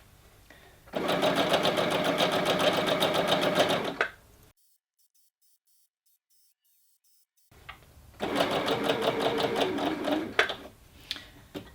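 Sewing machine stitching fabric for a tiered dress, two loud, steady rapid runs of stitching separated by a few seconds of silence, followed by lighter clicks.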